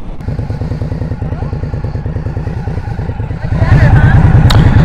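A 2023 Indian Scout Rogue motorcycle runs with a close, loud, rhythmic engine thump that swells louder near the end as it pulls away.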